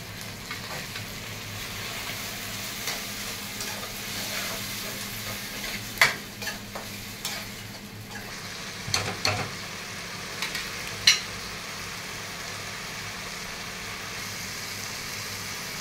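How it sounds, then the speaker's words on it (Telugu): Fried onions sizzle in a pan with tomato paste, ginger-garlic and cumin for a fresh anchovy curry. A continuous close hiss runs throughout, broken by a few louder scraping stirs. "ఆనియన్స్ ఫ్రై అయిపోయి బాగానే ఇందులోనే టమాటా పేస్ట్, అల్లం వెల్లుల్లిపాయ, జీలకర్ర, టమాటా పేస్ట్ వేస్తుంది."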